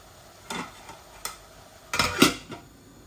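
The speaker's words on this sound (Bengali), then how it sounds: "এটা সেলরি এইভাবে ভাজতেছি কারেন্ট দিয়ে ভাজা" Celery and other vegetables stirred and fried in a pan on an electric stove, with a few distinct scraping clinks of a utensil against the pan over a faint low sizzle and no talking.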